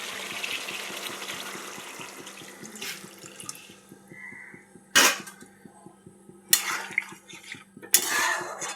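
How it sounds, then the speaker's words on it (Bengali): Water is poured into a pan of marinated chicken, a steady running trickle with a faint rhythmic pulse, broken by a few sharp clinks and splashes of utensils and vessel. "10 মিনিট কষে নেওয়ার পর দিয়ে দেবো কিছুটা জল।"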